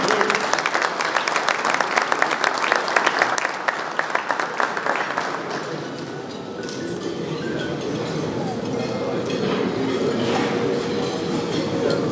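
Audience clapping welcomes a speaker to the stage at a TETSİAD association meeting in Denizli, loud dense applause that swells then gradually thins out over twelve seconds.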